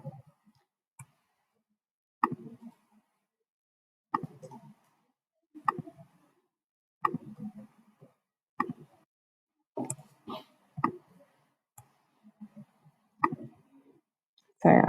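Mouse clicks while drawing pixel-art lines in Illustrator with the shift key held, about a dozen sharp, isolated clicks at irregular intervals, each followed by brief soft handling noise.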